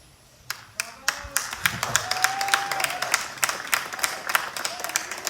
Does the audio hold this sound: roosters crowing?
no